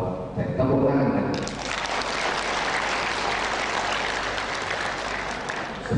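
A graduation ceremony audience in a hotel ballroom breaks into broad, sustained applause after a short stretch of talk, the clapping swelling to a dense, even roar that holds steady to the end.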